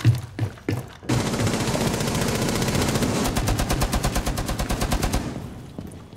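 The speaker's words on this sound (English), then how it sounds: "that a Chaka shooting through that window?" Rainbow Six Siege gameplay with a Chaka shooting through a window: a few single shots at first, then a loud, sustained burst of rapid automatic fire that ends in short bursts, with no talk.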